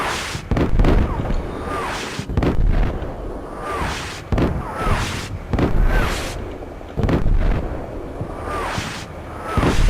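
Artillery fire mission exploding in the Combat Mission Shock Force wargame: a string of heavy booming impacts arrives every second or so. The bursts are loud and broadband, and they overlap with rumbling tails.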